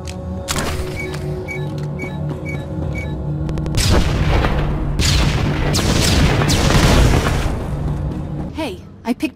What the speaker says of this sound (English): I picked up the snowspeeder explosion on the satellite.